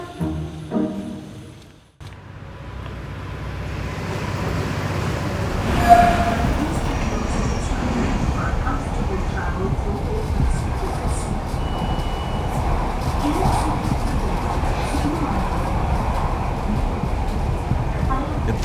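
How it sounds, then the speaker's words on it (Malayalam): A metro train runs along its track, starting quietly before a steady rolling rumble builds, with a brief swell as it passes and a continuous clatter of wheels close by. "എത്ര വേഗത്തിലാണ് ഈ മെട്രോ റെയിലിന്റെ പണി തീർന്നത്"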